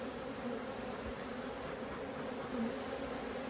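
Honey bees humming steadily at an opened hive with fresh white wax, a dense continuous drone close to the microphone, swelling briefly near the end.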